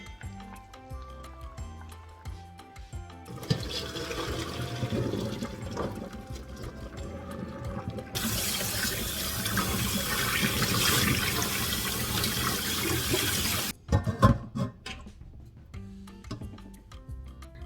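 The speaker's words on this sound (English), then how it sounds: "rinse it in cold water to stop the process of cooking further" Cold tap water runs loudly over cooked vegetables for bibimbap in a kitchen sink, a steady rushing stream in two bursts with clatter of handling before and after.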